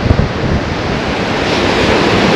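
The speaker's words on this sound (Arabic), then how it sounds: "وهذا البحر هذا سميتو بحر عدن" Sea waves of the Gulf of Aden wash in as a broad, continuous roar of surf, loud and close, with heavy wind buffeting the microphone at the start and no voices.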